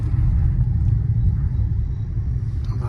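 A car being driven, heard as a loud, steady low rumble of engine and road noise throughout, with no voices over it.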